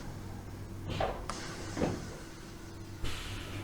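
Train cab door in Train Sim World 2 on the Island Line: a soft sliding movement followed by a muffled thud, then a second swish and a final latch, over a steady low engine hum, with no talk.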